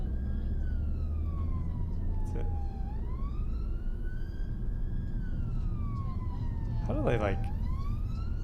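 A UK ambulance siren wails on a motorway, its rising and falling tone loud and steady over road rumble, with people talking over it.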